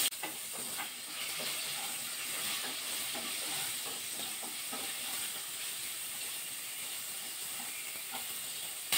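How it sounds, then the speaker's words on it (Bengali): Carrot, pointed gourd and potatoes frying together in a pan for a vegetable dish, giving a steady loud sizzle with scattered scraping and clattering stir strokes throughout, with no speech. "এবার একসাথে দিয়ে ভাজা করে নেব।"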